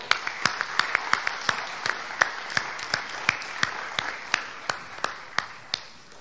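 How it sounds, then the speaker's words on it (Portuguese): Claps from an audience at a 2021 campaign speech launching election candidates, spaced sharp hits in a steady rhythm over a murmuring room, sounding like a small group or a few hands clapping rather than a full ovation. "Você também merece um aplauso."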